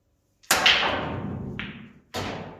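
A pool cue strikes the balls during a game of pool, making a sharp, loud clack that rings briefly, then a lighter click and a second solid knock as the balls collide close by.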